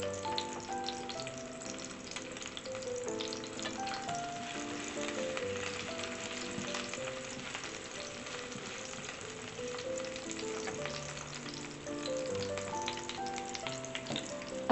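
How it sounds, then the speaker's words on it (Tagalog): Garlic and onion fry in a pan while a seafood mix is being cooked. A steady, moderately loud sizzle continues throughout with faint stirring, and no one speaks. "paluton og gamay ang ahos ug ang sibuyas kay para humot"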